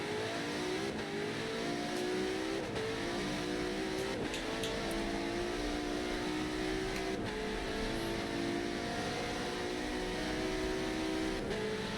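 A race car engine at Silverstone in a racing game, revving continuously through gear changes and shifting pitch as the car laps the track, loud and close with no talk over it.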